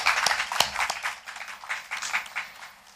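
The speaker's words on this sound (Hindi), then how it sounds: "जोरदार तालियां हो जाए।" An audience at a literary festival stage event claps in a dense, fairly close burst of applause that gradually thins out.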